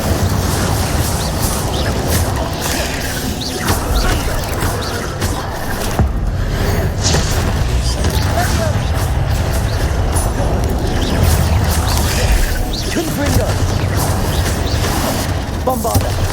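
Bombarda and other combat spells going off in Hogwarts Legacy: dense, continuous booms, crashes and magical bursts fill the whole stretch, loud and layered with game effects and a voice talking over them.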